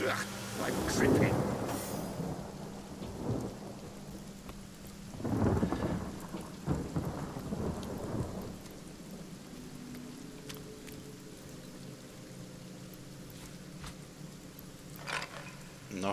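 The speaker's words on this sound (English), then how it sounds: "rain." Rain and rolling thunder from a storm in the video game Divinity Original Sin, with several loud thunder rumbles over steady falling rain, followed by a softer stretch of rain.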